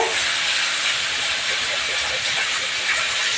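Potatoes fry in a pan with salt, making a loud, continuous, close hiss of sizzling oil that runs unbroken throughout.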